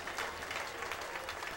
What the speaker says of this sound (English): he's getting a good hand from his home crowd